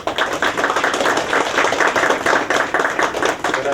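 Brisk clapping from an audience at a college lab ribbon-cutting ceremony, a steady patter of many hands sustained throughout with no voices over it.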